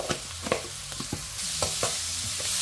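Onions sautéing with turmeric powder in a pan, a soft sizzle under repeated sharp clicks and scrapes of a spoon stirring, growing into a fuller fry hiss partway through, close and fairly quiet.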